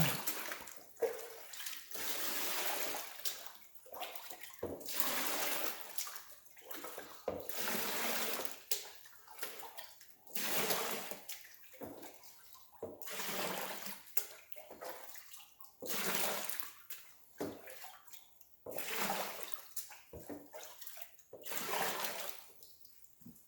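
Water poured repeatedly onto a black sands mat in a capture test tray, bursts of splashing and rushing that surge and fade in a steady rhythm of about a dozen pours.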